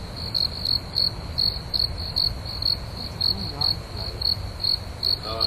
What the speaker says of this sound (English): that's where I need the hotkey to work for the crickets